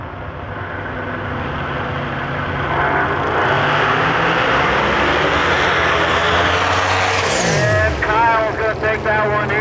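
Drag race cars launching down a strip at a heads-up series event at Milan Dragway, a loud sustained engine roar rising and building, then a falling whine near the end, with an announcer talking over it.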